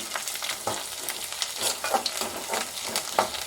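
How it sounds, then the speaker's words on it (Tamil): Vadagam, a sun-dried seasoning, sizzles and crackles in hot oil for tempering, with steady frying hiss and small popping bursts plus occasional stirring clinks, close and moderately loud. "தாளிக்கிறதுக்கு வடகம் சேர்த்துக்கிறேன். வடகம் நல்லா பொரியட்டும்."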